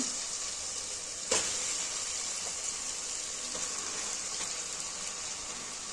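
Fish pieces dropped into a pan of hot spiced oil give a steady, close sizzle, with a brief sharp burst as they go in and a continuous frying hiss after, no voices.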